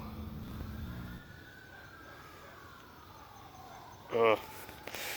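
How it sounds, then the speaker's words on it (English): A distant emergency siren wails, its pitch sliding slowly down, with a nearby clank and some background talking. "Ignore the sirens."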